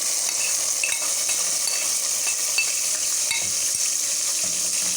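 Sliced onion frying in a pan for aloo matar pulao, a steady loud sizzle throughout with occasional faint stirring scrapes and clinks, no voices.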